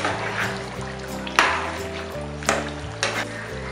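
Mutton, about seventy percent cooked, sizzles and fries in a pan with steady crackling and a few soft stirring clanks, close and fairly loud with no talking.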